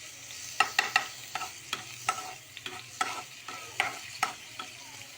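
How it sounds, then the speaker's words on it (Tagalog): Garlic frying in hot oil in a pan with crab cooking nearby, a soft, steady sizzle under repeated light clicks and scrapes of stirring, close and fairly quiet. "pag naginit ng oil, pwede na ito ibutang ahos"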